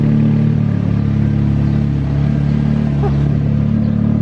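A Nissan S13 car engine idles steadily while warming up, a loud continuous low rumble with a slight revving swell, close and alone.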